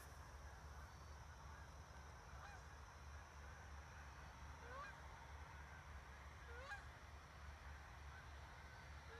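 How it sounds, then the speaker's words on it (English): Geese honking at sunrise beside the Potomac River near an airport, several calls at intervals over a steady low rumble, mid-distance and fairly faint. "here come the geese"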